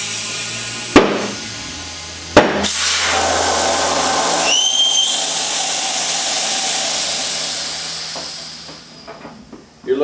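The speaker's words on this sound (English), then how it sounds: "I'm going to set the bead with just the compressed air" Compressed air hisses into a V-Strom motorcycle front tire with the valve core removed to set the bead, a loud close rushing hiss broken by two sharp pops, fading toward the end.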